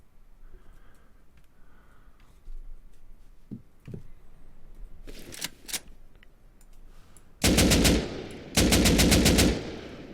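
Bursts of automatic AK assault rifle fire from the video game Rust, loud and close: a few scattered single shots, then two sustained rapid volleys of about a second each, with no talking.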